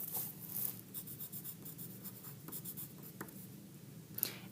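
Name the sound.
writing a name on paper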